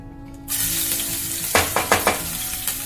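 Ginger and garlic dropped into hot coconut oil for a Kerala-style clam fry: a loud sizzle bursts in after a quiet moment and holds steady, with several sharp scrapes of stirring near the pan.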